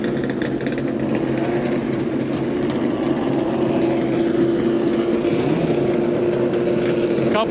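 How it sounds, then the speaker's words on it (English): Loud race car engines at the HSR Daytona Classic 24 Hour vintage endurance race, a continuous droning roar with a steady pitched whine, close and sustained throughout. "And the ability to lose your hearing, as loud as these cars are"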